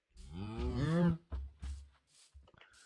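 Cows moo in a modded survival video game, one long, drawn-out low moo followed by a couple of shorter grunting calls, close and clear with no talk over them.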